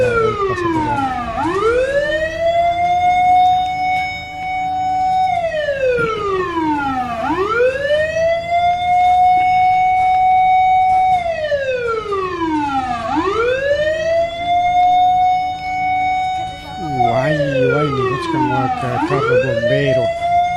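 A fire truck siren wails in long, loud rising-and-falling sweeps, four cycles in a row, close and dominant, with a shift near the end as the engine passes.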